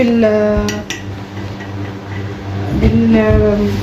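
Spoon scraping and clinking against a pot while rice pudding is stirred, a few distinct metallic clinks over a steady low kitchen background, fairly close.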